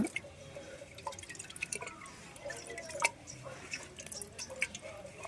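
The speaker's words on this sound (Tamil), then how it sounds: "இந்த சாதத்தை வந்து ஃபஸ்ட்டு கையால் நல்லா நம்ம குழையதை விட்டு பிசைஞ்சு விட்டுக்கலாம்" Wet squishing and dripping sounds up close, soft and irregular, as cooked rice is kneaded by hand in water.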